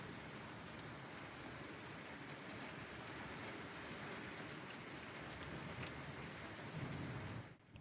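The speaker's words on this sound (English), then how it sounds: "Oh my god, it's raining!" Rain falling on a rooftop, a dense steady hiss of drops that stays even and fairly faint throughout, with no voices, ending in a brief handling bump.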